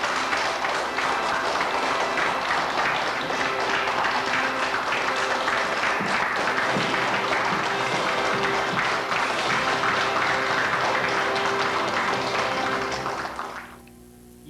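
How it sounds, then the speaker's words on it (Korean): Wedding guests applauding as the bride and groom process out at the end of a ceremony; steady, dense clapping from a crowd over about thirteen seconds, then fading abruptly. "손님들은 박수로 격려해 주시기 바랍니다."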